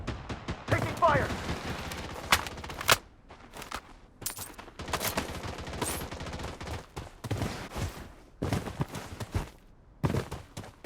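Gunfire in the video game Blood Strike, with rapid automatic bursts and scattered shots in irregular clusters separated by brief lulls, loud and close, with game voice callouts heard among the shooting.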